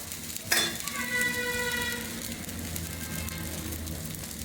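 Oil sizzles steadily around a millet and drumstick-leaf dosa on a hot pan, a sharp crackle at the start settling into a continuous close fry with a faint tonal ring above it.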